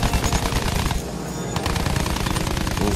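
Rapid machine gun fire from a World War I shooter game, Battlefield 1, loud and sustained with dense bursts and a brief dip in intensity midway, no talking.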